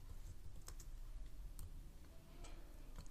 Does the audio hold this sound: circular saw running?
no